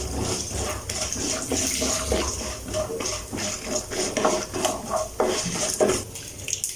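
Mustard seeds, urad and chana dal, and peanuts roasting in sesame oil in a pan, with crackling, sizzling pops and a spoon scraping and stirring against metal in uneven bursts, close up with no talk.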